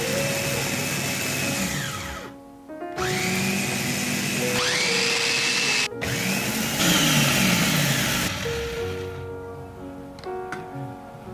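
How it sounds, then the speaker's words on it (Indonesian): An electric grinder pulverises dried shrimp heads with garlic and salt into a powder, a loud, close whining motor run in several bursts with brief stops and pitch drops between them, no talking. "Kemudian ini kita haluskan sampai menjadi kaldu bubuk."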